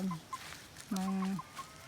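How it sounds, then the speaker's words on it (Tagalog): A hen clucks in short bursts, with one longer drawn-out call near the middle, fairly close against a quiet outdoor background. "nakatakas tong isang manok na to"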